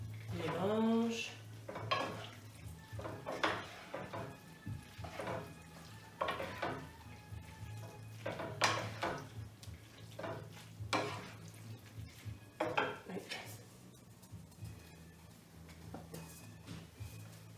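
Lemon pasta with grated parmesan is stirred in a pan, with repeated metallic scrapes and clinks of a utensil against the pan over a low steady hum, some louder strokes standing out.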